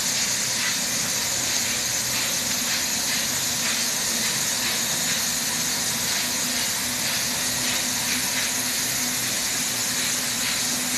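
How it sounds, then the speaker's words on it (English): Steady, loud hiss from an old steam pump in a 1914 boiler room in Brooklyn, a dense unbroken rush with a faint rhythmic pulsing running through it, with no voices over it. "There's an old steam pump."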